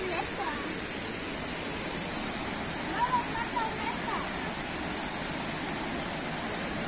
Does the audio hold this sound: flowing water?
yes